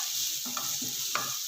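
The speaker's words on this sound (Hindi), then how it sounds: "अच्छे से इसको मिक्स कर देंगे।" Spoon stirring green chillies, tomato, salt and black pepper into egg mixture for a cheese omelette, a few soft scraping strokes in a bowl against a steady hissing background.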